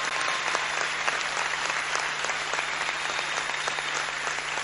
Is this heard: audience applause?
yes